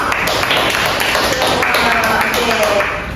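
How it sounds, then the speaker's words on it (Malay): Classroom applause from a group of students, a steady dense patter of many hands clapping throughout, close and fairly loud, with faint voices mixed in. "Jadi semua berikan tepuk tangan untuk"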